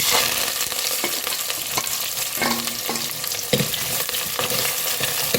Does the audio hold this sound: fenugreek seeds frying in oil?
yes